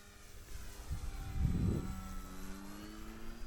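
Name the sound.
Piper Cherokee light airplane engine in flight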